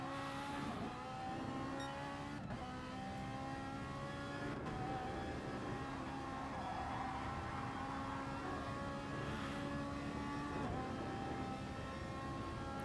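Gr3 race cars lap the Nurburgring GP circuit in a racing video game, engines holding a steady high-pitched drone with shifting revs and a couple of sharp clicks, no talking.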